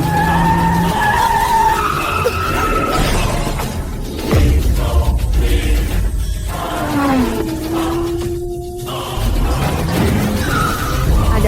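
Race car tyres skidding and squealing as the car fails to stop, long loud screeching slides with engine roar and a crash-like shatter.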